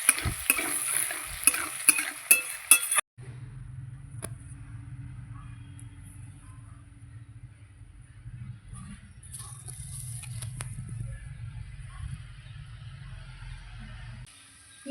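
Chopped onion fries in a pan with a steady, fairly loud sizzle and stirring, after a short burst of clatter at the start. The dish is a Bengali khoyra hilsa fish curry.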